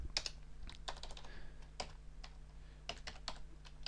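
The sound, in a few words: typing a domain name on a computer keyboard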